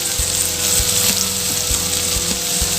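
Tomatoes and a handful of mint leaves sautéing in a pan for a mixed chutney, giving a loud, close, continuous sizzle and crackle with a few soft thumps beneath it.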